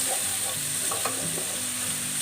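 Corned beef sautéed with soy sauce sizzles steadily in a hot pan while being stirred, a constant close frying hiss with occasional scraping, no voices.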